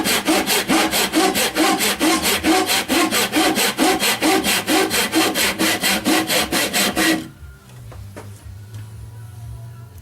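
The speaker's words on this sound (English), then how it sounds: "Yeah, I'm still sawing." Hand saw cutting through wood in fast, even back-and-forth strokes for about seven seconds, loud and close, then stopping abruptly, leaving a quiet room hum.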